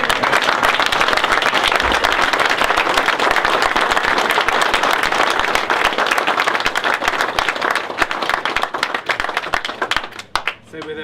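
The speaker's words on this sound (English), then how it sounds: "could we all please give them a big round of applause" Dense, sustained applause from an audience at the 2011 Half Ton Classic Cup sailing prize giving, a steady wash of many clapping hands that holds for about ten seconds before thinning and breaking off near the end.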